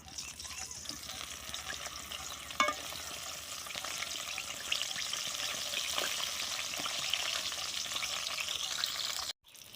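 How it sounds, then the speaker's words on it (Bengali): Long strips of eggplant fry in oil in a wok, a steady, fairly quiet hiss with occasional stirring clinks throughout, cutting off abruptly at the end. "এবার আমি বেগুনগুলো ভেজে নেব। কড়াইতে তেল আছে,"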